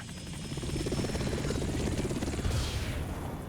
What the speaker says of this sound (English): what's a Russian gunship doing here?